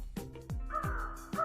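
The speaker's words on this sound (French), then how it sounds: "C'est un corbeau. C'est un corbeau." A crow caws in an orchard video game, three or four harsh, close calls in quick succession with a couple of lower thuds between them, loud and clear with no talking.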